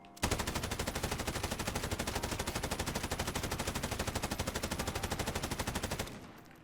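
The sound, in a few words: Bruen MK9 gun firing in a video game (Modern Warfare)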